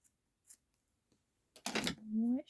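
Scissors snip through paper for a craft collage: a few faint clicks, then one firm close cut. A brief voice follows right after.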